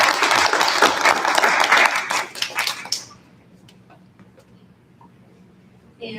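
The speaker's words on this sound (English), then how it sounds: "Let's give them all a round of applause" Audience applause at a school spelling bee, a dense burst of clapping for the first half that cuts off sharply, leaving a quiet room with faint shuffles and a brief clap at the end.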